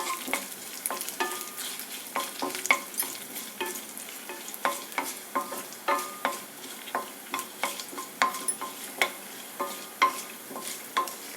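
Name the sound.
frying dried red chilies and curry leaves in oil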